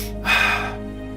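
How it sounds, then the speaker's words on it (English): A person demonstrates rapid, deep breathing through the mouth or nose, a single forceful gasping inhale-exhale rising sharply and then fading, close and fairly loud with a steady hum behind it. "The repetitive breathing more quickly and deeply,"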